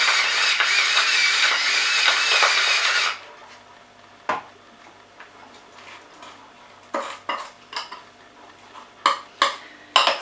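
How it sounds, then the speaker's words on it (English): Garlic butter being mixed with salt and pepper in a bowl: a few seconds of steady rubbing and scraping, then scattered sharp clinks and knocks of a utensil against the bowl. "So this needs to be mixed really well so that the garlic and the seasoning is even"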